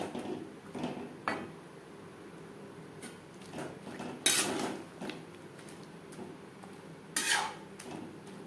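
A spoon works snake gourd into masoor dal in a pot, giving scattered metallic scrapes and clinks at irregular intervals over a quiet background.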